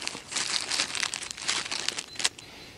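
Plastic bags holding pre-tied fishing rigs for crucian carp crinkle and rustle as they are handled close up, a steady run of crackly bursts that fades near the end.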